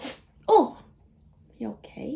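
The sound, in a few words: golden doodle puppy sneezing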